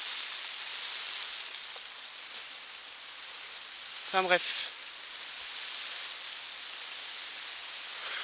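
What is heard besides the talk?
heavy rain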